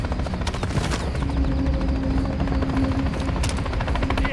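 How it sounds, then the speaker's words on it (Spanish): A helicopter in Call of Duty: Modern Warfare 3 thuds steadily with rapid rotor chopping, joined by bursts of gunfire and game noise in a busy, continuous combat soundscape. "Veo el segundo helicóptero."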